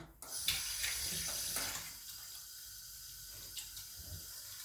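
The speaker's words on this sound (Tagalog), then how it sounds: "Sobra pong lakas ng tubig." Water gushes hard from a tap in a steady, hissing stream, close and continuous, with a splashy onset.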